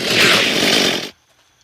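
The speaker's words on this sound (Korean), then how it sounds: "전기톱으로 쓸어주고요" A chainsaw swung at zombies in the video game Unturned, a loud, dense, rasping burst lasting about a second that then cuts off abruptly into near silence.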